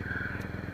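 A motorcycle is ridden at night into the grounds of the Kali Vahan temple in Etawah. There is a brief, faint, low engine putter with rapid even pulses.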